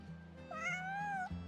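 Cat in the game Genshin Impact giving a single rising-then-falling meow, clear and close over a low steady background hum, with no talking.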